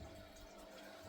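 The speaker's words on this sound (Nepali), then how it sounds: "पम्प निभाइदियो है।" An aquarium water pump runs in a parrot fish tank, giving a steady, close whirring hum with a constant watery rush. It stays even throughout and no one speaks.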